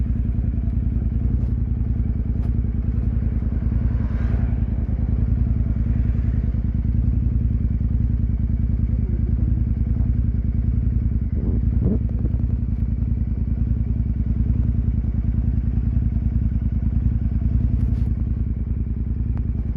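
A Royal Enfield Continental GT 650 in British Racing Green hums at a steady, low engine drone while being ridden, with faint clatter and a couple of light knocks along the way.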